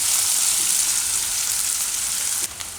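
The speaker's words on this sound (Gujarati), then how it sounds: "આમાં આપણે હવે હિંગ મૂકી દઈશું, ને ડુંગળી, ડુંગળીને થોડીક વાર પકાવી લેવું આમાં।" Onion and asafoetida fry in hot oil with a loud, steady, close sizzle that holds evenly, then drops slightly in level near the end.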